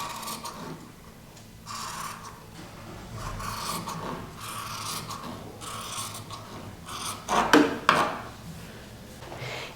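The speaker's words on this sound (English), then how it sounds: "along here I'm going to trim a bit of the seam allowance away" Scissors trimming away the seam allowance on a fabric dress seam, giving soft repeated rasping cuts that end in a sharper snip-and-rustle near the end, close and quiet.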